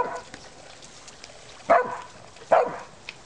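A dog with cancer barks twice, about a second apart, in short, fairly close, moderately loud woofs over faint background noise.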